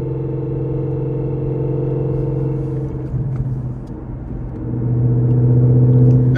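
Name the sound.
straight-cut gear whine of a car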